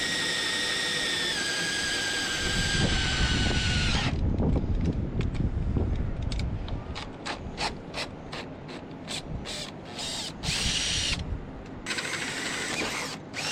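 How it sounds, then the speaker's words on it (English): A drill boring a pilot hole with a 5 mm bit, the steady grinding whir running continuously before giving way to a rapid series of short, sharp ticking bursts near the end, with no talk. "this is just a pilot hole, probably about a 5mm drill bit"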